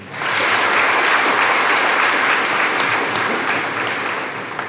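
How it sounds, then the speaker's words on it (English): A crowd at a high school graduation ceremony claps loudly and steadily for the students, dense continuous applause that fades slightly toward the end. "another round of applause for all these students really quick."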